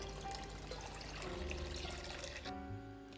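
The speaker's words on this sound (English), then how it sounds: "now I'm going to add homemade veggie broth" Homemade veggie broth pours steadily into a pot of homemade tomato sauce, a continuous liquid splash that changes tone near the end as the pour tapers off, faint and close.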